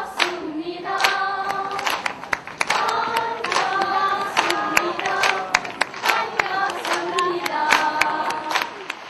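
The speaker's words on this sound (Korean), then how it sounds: "호텔에서 일하는 안내원 선생님들이 모두 나와 박수치고 노래하며 남측에서 온 답사단을 반갑게 맞아주었다" Hotel guide staff in Pyongyang clap together to welcome a visiting group, rhythmic group clapping with voices singing a melody over it, lively and close, continuing steadily throughout.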